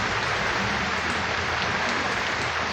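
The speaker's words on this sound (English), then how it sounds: "the rain is coming down." Steady afternoon rain pours down outdoors after a hot day, a dense, even hiss of drops on surfaces that holds constant throughout.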